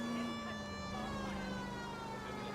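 A police car siren in the video game L.A. Noire wails steadily, a faint, sustained droning tone holding a slightly falling pitch with no talk over it.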